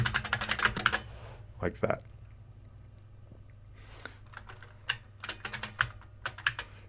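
Keys clatter on a computer keyboard while code is entered, with a dense burst at the start, a quiet stretch, then a scattered run of clicks. Someone speaks briefly over the typing.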